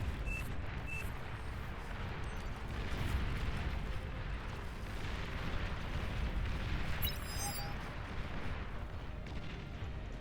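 Steady low rumble of artillery fire from Hounds units in the real-time strategy game Beyond All Reason, during an 8v8 battle on the Riverrun map, with dense overlapping booms held at a moderate distance and a faint chirp near the end.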